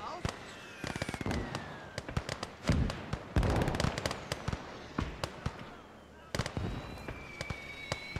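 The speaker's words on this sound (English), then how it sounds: "Oh, my mortars are firing for effect right now." Mortars fire in the trench-warfare video game Call To Arms Gates Of Hell, giving repeated sharp reports and thuds at uneven intervals amid battlefield clutter and whistling shells, with a voice talking at times.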